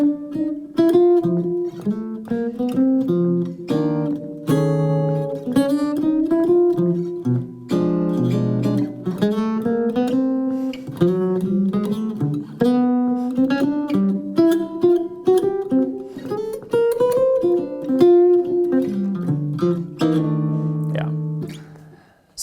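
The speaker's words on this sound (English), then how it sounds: "using it even in a more modern style, typical sort of jazz blues" Jazz blues improvisation over a modernized blues chord progression, with a melodic instrumental line weaving through chords in continuous phrases, steady and fairly loud with no talking.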